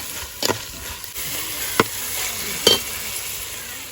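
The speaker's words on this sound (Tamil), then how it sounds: "வெங்காயம் நல்லா வசங்கிட்டு தக்காளி போடுவேன்." Onions and tomatoes sautéing in a clay pot for crab curry give a soft continuous sizzle, broken by three sharp spoon knocks or scrapes against the pot at irregular moments.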